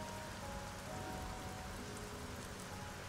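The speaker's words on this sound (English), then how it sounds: "How can you hate rain?" Steady rain falls in the video game Scarlet Hood and the Wicked Wood. It is a soft, continuous hiss of drops on a surface, faint and even throughout, with no voices or thunder.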